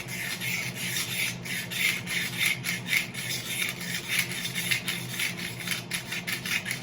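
Utility knife blade scraped along a wooden hammer handle, a steady close rasping scrape repeated in quick back-and-forth strokes with no talking.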